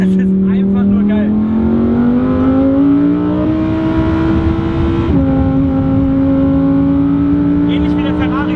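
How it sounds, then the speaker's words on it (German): A Lamborghini Huracan Evo's V10 revs loud and close while driving, its engine note climbing steadily through the gears with brief shifts, and someone talks over the engine throughout. "dieses V10-Konzert hinter einem"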